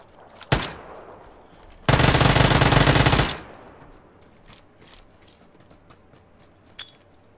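A single shot, then a sustained full-auto burst of about a second and a half, loud and close, in the game PLAYERUNKNOWN'S BATTLEGROUNDS, followed by quieter ambient clicks and a faint later pop.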